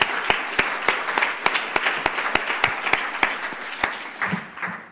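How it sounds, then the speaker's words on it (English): Audience at a live-streamed EUnetHTA event claps in a steady, rhythmic pattern, a modest group of sharp, evenly spaced claps close by that thins out at the end. "So I also think we have to clap for them."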